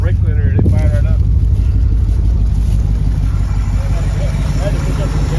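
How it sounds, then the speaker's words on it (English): Ford GT muscle car engine idling after being started with brake cleaner, a loud, steady, throbbing rumble that runs without a break through the whole clip, with a brief voice near the start. "we did a little brake cleaner and it fired right up."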